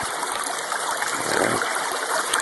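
Gold pan shaken in a stream of water while panning black sand for gold, giving a steady close splashing and sloshing wash with no talk.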